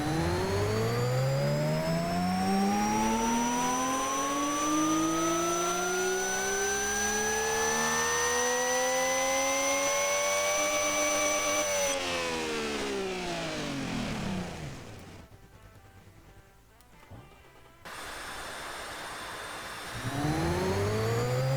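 Twincharged flat-six race car engine in Automation, run on a dyno: a loud sweep climbing steadily through the revs for about twelve seconds, then a rough, falling tone as it lets off. After a brief near-silence, a fresh rev rises at the end.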